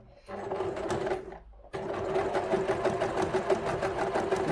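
Sewing machine running a straight line of stitches, a steady fast mechanical whir with rapid needle clicks, pausing briefly before resuming.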